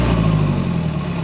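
A motorcycle fitted with a racing exhaust idles with a loud, deep, steady rumble close by. No one speaks.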